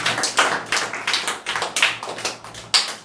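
Students clapping for themselves in a classroom, a loose run of sharp separate claps with uneven rhythm, fairly close and without voices.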